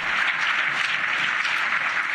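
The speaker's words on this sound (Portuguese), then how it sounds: "o presidente do país foi aplaudido de pé" Standing ovation for Zelensky's speech to European Union lawmakers, a dense, continuous wash of clapping from a large audience in an assembly hall, steady and unbroken throughout.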